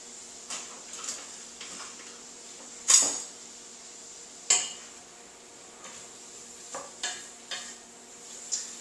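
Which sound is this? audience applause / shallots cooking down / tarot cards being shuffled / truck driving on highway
shallots cooking down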